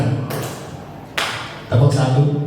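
Hands clap sharply about three times at irregular intervals in a classroom-like room, with a voice heard between the claps.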